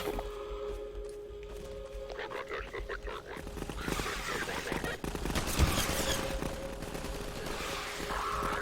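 Gunfire in the Half-Life 2 video game, dense crackling bursts of shots and impacts over a steady background hum, with a player talking over the action.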